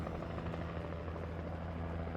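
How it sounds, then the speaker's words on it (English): Steady, close helicopter rotor drone with a low, continuous engine hum in Alan Wake Remastered, holding constant throughout without voices. "She whipped that helicopter around."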